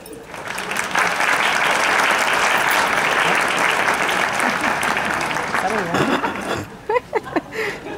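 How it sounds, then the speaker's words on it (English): A crowd responds with polite golf-style applause, a steady full patter of clapping that swells quickly, holds, then thins into a few scattered claps and a voice at the end. "give me a very polite golf-style applause"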